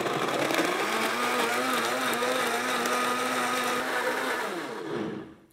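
A Blendtec blender runs at full power, liquefying a citrus super juice mixture, a loud, steady motor whine and churning that holds for several seconds, then winds down and stops, with no talk.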